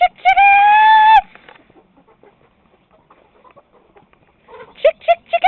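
A chicken gives a long, loud, squawking call up close, then after a quiet stretch, a few short clucks break out near the end.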